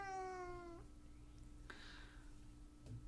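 A single clear cat meow rises and falls near the start, followed by quiet room tone with a couple of faint soft noises.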